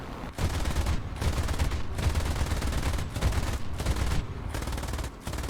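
Machine guns on a Bf 110 C-7 fighter fire in War Thunder in long rattling bursts separated by brief pauses, dense and loud throughout.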